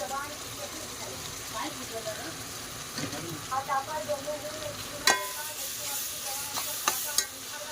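Ginger garlic paste frying in a pan with browned onions, sizzling steadily while a spoon stirs and scrapes through it, with a sharp clink near the middle and someone speaking over the cooking throughout.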